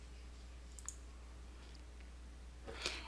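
A computer mouse clicking an option chain button in trading software makes a couple of faint, brief clicks, one early and one near the end, over quiet room hum.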